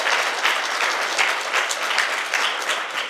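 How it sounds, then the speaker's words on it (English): An audience applauds panelists at a human trafficking awareness event, dense steady clapping from many hands filling the room throughout, loud and continuous with no talking. "if you want to give them a round of applause."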